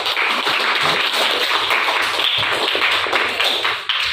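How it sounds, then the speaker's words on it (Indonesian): Classroom clapping for a student, a dense, steady patter of many hands that continues throughout and fades briefly at the end. "Tepuk tangan untuk dia."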